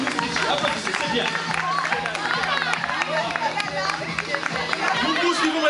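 An audience at the grand final of a theatre company's Miss pageant applauds the first runner-up, clapping mixed with loud crowd chatter and babble, with a voice talking over the steady hubbub.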